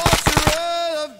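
Gunfire in the military video game Arma 3: a quick burst of about four sharp shots, followed by a sustained, fading ringing tone.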